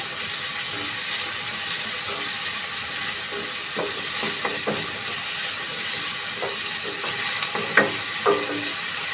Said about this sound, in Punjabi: 5 ਮਿੰਟ ਆਪਾਂ ਟਮਾਟਰਾਂ ਨੂੰ ਪਕਾਉਂਦੇ ਆ